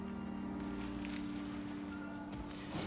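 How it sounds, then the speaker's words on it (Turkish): Steady rain in the survival game Icarus patters softly and evenly over a low hum, quiet and continuous for a few seconds with no voices. "Yağmur."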